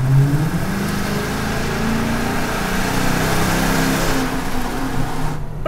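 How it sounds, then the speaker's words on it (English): A Dodge Charger HEMI V8 pulls steadily under acceleration through a tunnel, a muted, continuous stock exhaust drone that rises slightly in pitch, heard from inside with no talking. "this car's exhaust sounds like it's pretty standard"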